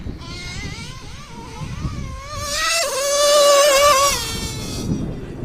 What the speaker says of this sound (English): Nastiest engine I own.